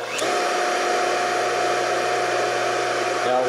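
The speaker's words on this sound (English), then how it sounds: "So you can hear the motor makes a different sound until it kicks in," Electric motor with a centrifugal starter switch spinning up to speed, a steady loud whine with a constant tone held throughout, then a brief change near the end as the switch disengages.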